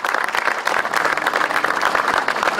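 An audience applauds at a workers' celebration event about jobs gained in negotiations, with dense, steady clapping sustained at an even level for the whole stretch.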